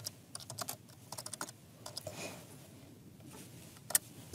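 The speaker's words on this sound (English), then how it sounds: "let's just type it in." Keys clatter on a computer keyboard as a chart title is typed in Microsoft Excel 2016, a quick run of close, crisp taps in bursts with short pauses and one sharper click near the end.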